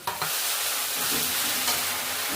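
Ground garlic and ginger paste fries with onions for a chicken curry, giving a loud, continuous close-up sizzle with a brief scrape of stirring near the start.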